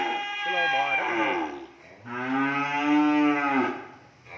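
French-breed cattle in a lot at a cattle farm let out two long, drawn-out moos, the second one deeper and fuller, near and loud with faint background noise.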